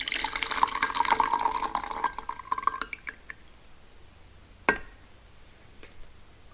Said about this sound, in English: we're going to go ahead and pour the second infusion out